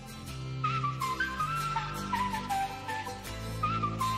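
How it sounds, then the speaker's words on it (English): A melodic whistled line opens a song, set over a bass and synth backing track, with bright percussive hits and no talk. "I love a good whistle intro."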